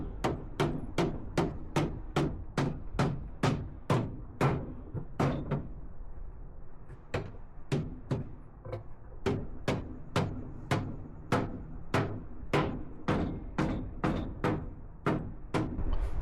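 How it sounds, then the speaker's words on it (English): Hammer blows while gluing up a tablesaw table handle in a workshop: sharp, loud, evenly spaced strikes, many in quick succession, with a short pause midway before the steady pounding resumes, no talk. "get the hammer out"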